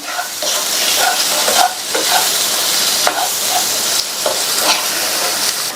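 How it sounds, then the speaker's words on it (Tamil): A loud, close, dense sizzle of tomato masala and spice powder frying in a pan, with repeated scraping and stirring strokes breaking through the hiss every second or so. "இதை நல்லா மிக்ஸ் பண்ணி விட்டுக்கலாம்"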